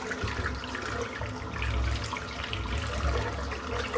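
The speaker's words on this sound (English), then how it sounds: "I'm just going to rinse the brush out now." Shaving brush rinsed under a running tap, a soft steady splash and gurgle of water close by, fairly quiet and continuous, with no talk.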